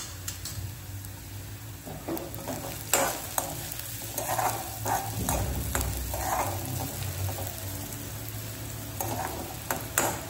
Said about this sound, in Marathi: कढई चांगली गरम झाली की त्यामध्ये तेल टाकूया